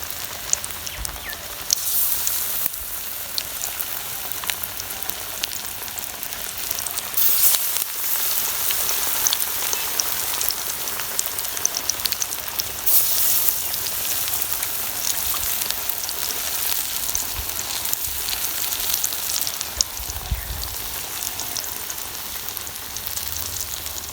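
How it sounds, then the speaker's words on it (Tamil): Masala vada sizzle and crackle steadily in hot oil, a dense, even frying hiss that carries on without pause, close and moderately loud, with no talking. "அப்படியே எண்ணெயில் போட்டு பொரிக்க வேண்டியது."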